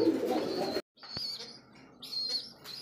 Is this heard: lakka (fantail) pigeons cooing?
yes